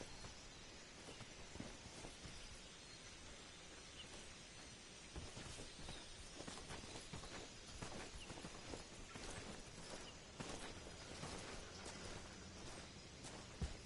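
Footsteps in Metal Gear Solid Snake Eater remake gameplay: a steady run of soft, close steps under a dense, noisy game ambience, with no talk.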